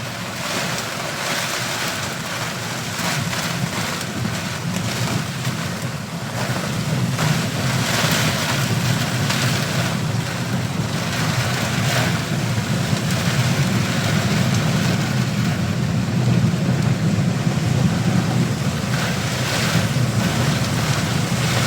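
Strong wind from Typhoon Kristine in Lipa City, Batangas, roars steadily with heavy rain hissing down, a constant loud rush that swells slightly in gusts.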